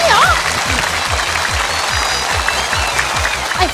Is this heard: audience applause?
yes